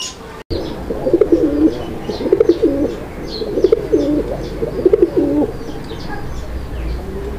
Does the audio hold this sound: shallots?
no